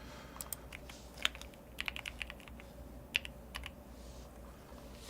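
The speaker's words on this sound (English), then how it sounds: "You can't see what I'm typing" Computer keyboard typing comes in quick, irregular bursts of crisp, faint key clicks, with short pauses between runs, heard during a coding session.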